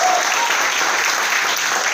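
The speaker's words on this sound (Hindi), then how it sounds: "ताली बजाइए।" Audience at a network marketing talk clapping hands in dense, steady applause, loud and close, sustained throughout without pause.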